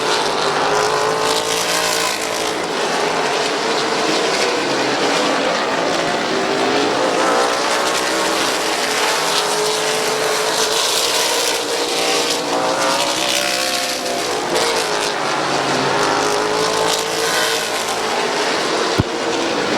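Race cars roar around the oval at Midvale Speedway, a loud, continuous engine drone with rising and falling passes as the field circles the track, without any voices.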